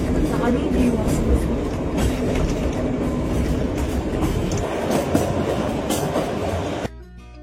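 The Kalka–Shimla toy train runs along its narrow-gauge mountain railway, a steady rumble of wheels and carriages with faint rhythmic clatter, heard from on board with some voices over it, before it cuts off at the end.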